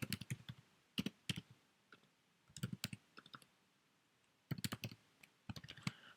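Typing on a computer keyboard in quick bursts of clicky keystrokes separated by short pauses, close and clear against a quiet background.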